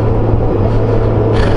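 A Honda Goldwing motorcycle cruises along Highway 119 toward Nederland, Colorado, its engine a steady, loud, low drone mixed with rushing wind that holds without a break.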